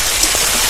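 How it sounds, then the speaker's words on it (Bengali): Chicken gizzards and feet sizzle in hot oil, a dense, loud, crackling hiss heard close up for a brief moment. "দেখুন কি সুন্দর তেল ছেড়ে বেরিয়েছে, এরকম তেলের মধ্যে ছটফট করছে।"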